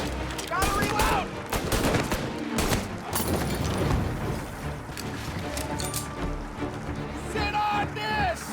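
Gunfire in the video game Mafia, dense bursts of machine-gun and rifle shots rattling continuously amid loud action noise, with shouting voices over the fight.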